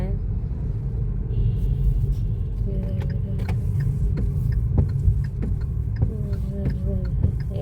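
A car drives over a speed breaker at the entrance of a residential street, its steady low interior rumble broken by a few dull thumps while people talk throughout.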